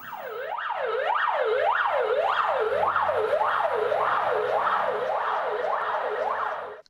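A Russian-made Gazel ambulance sounds its siren in a fast, repeating wail that sweeps up and down about twice a second, loud and close, with no voices over it.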